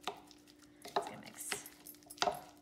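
Wooden spatula stirring and scraping guacamole in a bowl, a few soft scraping strokes and light knocks, fairly quiet and close, with no talking.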